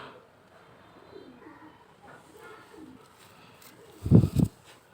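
Two short, low coos from a male Pakistani Shiyalkuti pigeon close together near the end, after a stretch of quiet, faint background murmur.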